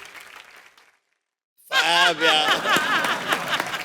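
A comedy-stage studio audience breaks into loud applause mixed with laughter and whoops after a brief silence, with voices carrying over the clapping.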